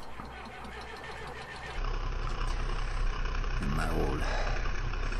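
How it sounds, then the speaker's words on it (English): Zetor tractor engine in Farming Simulator 2013, with a loaded trailer on a hilly farm map, running as a steady low drone that grows louder partway through, under a man's brief speech. "Zetor tractor"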